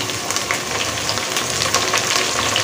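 Onions sautéing with mint and coriander in a pan make a steady, close sizzle with a faint crackle throughout, and nobody speaks.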